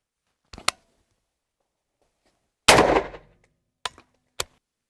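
Shots fired on the EB-MK ONE test setup: a sharp crack, then a louder, longer blast that trails off, followed by two more short sharp reports, all separated by silence.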